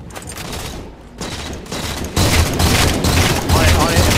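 Rapid gunfire in a competitive shooter game, dense bursts of loud shots growing heavier over a few seconds, with a player talking over the fighting.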